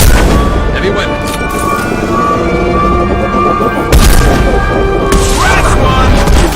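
Heavy weapons fire in the video game Mass Effect 2 booms and crackles continuously amid a loud, dense battle din, with a sharp burst near the four-second mark and game voices sounding over the fighting.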